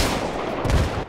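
Gunfire in Battlefield 3 on the Noshahr Canals map during an 8v8 tournament match, a single sharp report booming briefly over steady background game noise.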